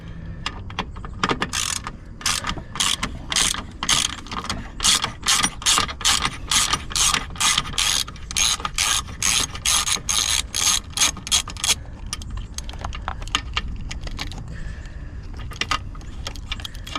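A hand ratchet clicks in rapid bursts, loud and close, as Torx T50 seat bolts come out of a 2019 Kenworth T680 cab, with brief pauses and metallic clinks between runs of clicking and no talk.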